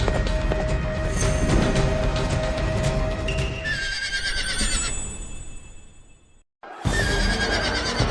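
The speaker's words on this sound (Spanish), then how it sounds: "Un caballo se asustó." A frightened horse whinnies loudly and repeatedly in a period street scene, with hoof clatter and commotion underneath; the sound cuts out briefly near the end before resuming at full volume.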